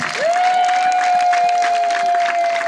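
Congregation clapping during a church sermon: a dense, steady burst of applause and crowd noise lasting a few seconds, with a sustained tone ringing through it.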